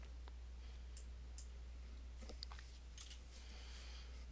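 A few soft computer mouse clicks come at irregular intervals during software work, quiet and close over a steady low electrical hum.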